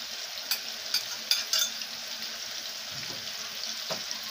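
A prepared mixture dropped into hot oil, crackling with a few sharp sizzling bursts early on, then a quieter steady fry with faint occasional pops and no voices.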